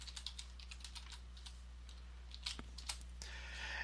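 Quiet, rapid clicking of keys on a computer keyboard as a password is entered, irregular taps close by over a low steady hum.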